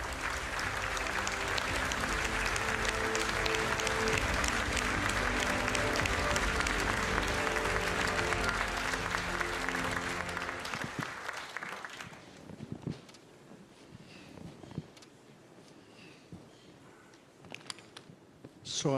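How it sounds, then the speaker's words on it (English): Audience applause at a summit on mental health: loud sustained clapping fills the first ten seconds, then fades into scattered claps and quiet room noise with some camera clicks. "Your round of applause, please."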